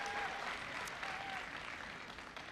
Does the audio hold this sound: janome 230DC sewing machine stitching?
no